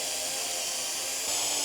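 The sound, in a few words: drilling pilot holes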